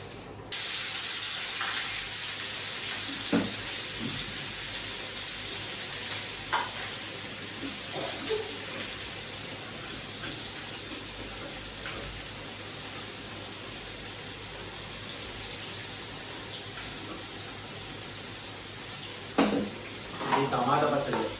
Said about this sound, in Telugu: పోపు గింజలు వేస్తున్నా అండి, తాలింపు గింజలు.